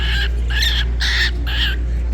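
A pet bird gives four clear, bright calls in a steady rhythm, close and loud, over a constant low hum, with no talking.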